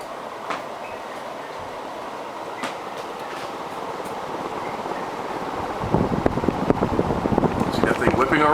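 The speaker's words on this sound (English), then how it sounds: "Extremely fast speed, faster than any I've ever seen from a residential ceiling fan." An antique 1980 Casablanca Zephyr copper ceiling fan spinning on extreme high speed, a steady rushing whoosh of moving air that swells louder and more turbulent toward the end, with a voice talking over it.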